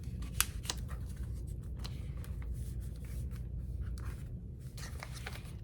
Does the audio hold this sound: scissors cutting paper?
yes